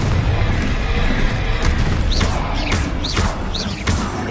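Confringo blast spells in the Hogwarts Legacy video game go off as a rapid series of sharp, loud booms and crashing impacts over a constant din of combat.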